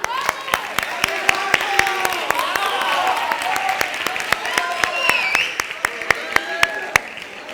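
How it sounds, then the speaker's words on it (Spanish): Audience applause at a book week opening event with a film projector presentation, with sharp individual claps standing out over a steady patter and people talking underneath. "Un aplauso."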